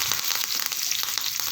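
Curry leaves sizzle and crackle in hot oil with mustard seeds during tempering for a chutney, a dense, steady frying hiss with small pops throughout, close and fairly loud, no voices.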